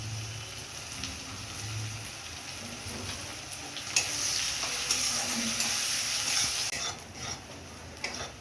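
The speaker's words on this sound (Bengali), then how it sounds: "রসুন দিয়ে হলুদ লবণ দিয়ে কষিয়ে নিয়েছি।" Garlic frying with turmeric and salt in a pan while it is stirred, a steady close sizzle with scraping strokes that grows louder and brighter midway, then eases, with no voices.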